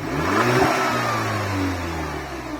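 An Audi TT with its stock intake, before a cold air intake is fitted, revs sharply close by, then lets the engine note sag and settle back toward idle.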